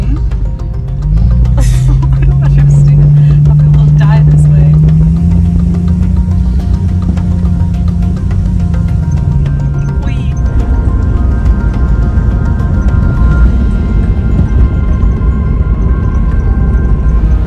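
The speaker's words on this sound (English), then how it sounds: "That was the first time me driving on the road." A British Jeep Cherokee is driven on a road, with a loud, continuous low rumble heard from inside. An engine tone rises and holds for several seconds early on, then settles back into the steady drone.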